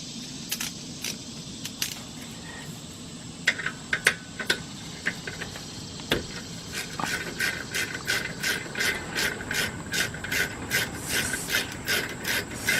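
7mm hex bolts being removed from a rear brake bracket on a 2001 Jeep Grand Cherokee Laredo, with scattered close metallic clicks and knocks that settle into a fast, even run of ratchet clicks toward the end.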